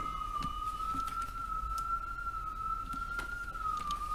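A single steady ambulance siren tone holds continuously at a distance, two blocks from a hospital, faint over a low background hum, with occasional soft clicks and no speech.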